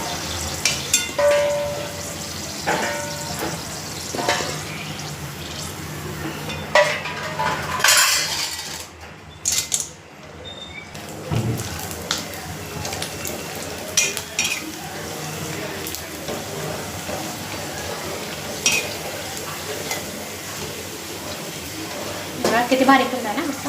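Puris deep frying and puffing in hot oil in a pan, bubbling sizzle with utensil scrapes and clinks, someone talking over it at times.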